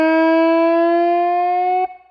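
A single sustained electric slide guitar note glides slowly downward in pitch, held smoothly and loud before stopping abruptly.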